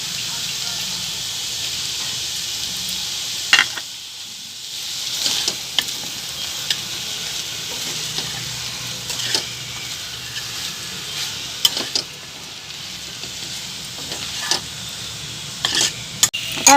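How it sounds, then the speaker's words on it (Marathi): Potatoes and peas fry in green masala in a pan, giving a steady hiss of sizzling oil. Scraping and clacking stirring strokes break in at irregular intervals, close and clear. "आता आपण त्यात बटाटा पण घालून घेऊ।"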